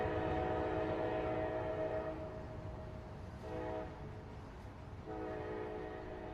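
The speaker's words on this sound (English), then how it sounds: "It's a loud train." A loud train horn blares in American Truck Simulator, its sustained harmonic tone sounding for about two seconds, dropping briefly, then returning in bursts over the steady rumble of the passing train.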